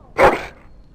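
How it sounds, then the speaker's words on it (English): A single short, sharp dog bark from a noble-looking hound in the Dragon Age: Origins video game, close and loud, then quiet. "That is a wonderful dog."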